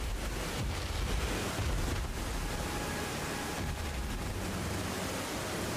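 Rain in the video game Elden Ring, a dense, steady rushing hiss of falling rain with a broad noisy texture, heard alone without speech and holding constant throughout.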